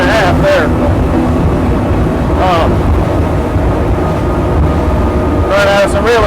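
Twin Mercury outboards, a 450R V8 and a 400M L6, roar near the rev limiter on a 2021 Invincible 33' Open Fisherman running around 69 mph, a steady loud drone with wind buffeting and someone talking over it.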